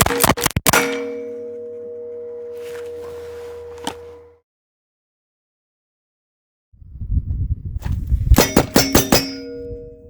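Lead bullets fired from an 1858 Remington revolver strike 6-inch steel plates, giving sharp ringing clangs that hum on, first a cluster at the start and then a rapid run of several hits near the end after a silent gap.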